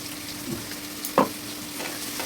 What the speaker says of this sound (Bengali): এবার আদা রাঁধুনি বাটাটা দিয়ে নেড়ে চেড়ে নিলাম